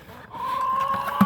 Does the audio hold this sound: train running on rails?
no